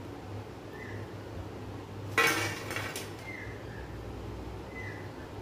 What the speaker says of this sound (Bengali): আওয়াজ শুনেই তোমরা বুঝতে পেরেছো বড়াগুলো কতটা মুচমুচে তৈরি হয়েছে